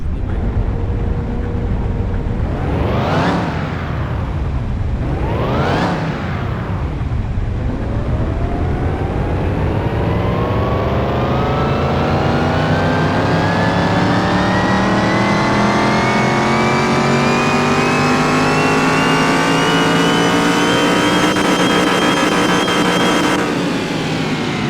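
A brand-new engine in a car repair simulation game runs on a dyno, two sharp rev blips giving way to a long, steady climb in pitch as it pulls hard toward the top, then abruptly cuts off.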